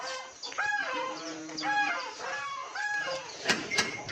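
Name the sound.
hens clucking after being let out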